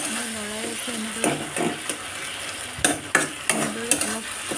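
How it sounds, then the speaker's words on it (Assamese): Tomatoes frying in a pan as they are stirred, a soft sizzle under repeated scraping strokes of a utensil against the pan, with a voice speaking over it. "আৰু অলপ সময় মই লৰাই আছোঁ"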